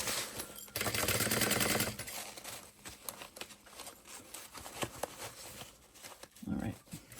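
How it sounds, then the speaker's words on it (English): A sewing machine back stitches through fabric and webbing on a small tote bag, a burst of rapid stitching followed by short clicking stops and starts, with speech heard faintly. "We're going to back stitch over the webbing,"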